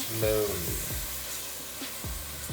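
Onion, carrots and celery sautéing in a pan for ragù, a soft close sizzle with a few low knocks and scrapes of stirring.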